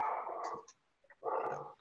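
Dogs barking in two loud bursts close by, separated by a short quiet gap, with no talk over them.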